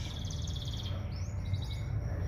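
A small bird gives quick, rapid chirping trills in two bursts over a steady background hiss.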